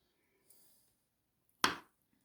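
A kitchen knife strikes once through a carrot onto a cutting board, a single sharp close chop, with faint handling noise earlier and otherwise quiet.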